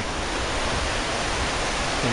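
Rushing water from a river at Shirakawa-go, Gifu, fills the scene with a dense, steady broadband roar, close and unbroken, like a fast-flowing river.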